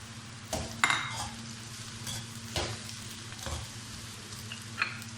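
About a kilo of vegetables tossed into a pan of fried onions and stirred, a steady sizzle broken by clanking spoon strikes and scraping against the metal pan.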